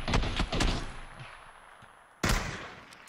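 Gunfire in the PUBG video game, bursts of rapid shots close and loud, a lull of quieter rattling, then another sudden loud volley.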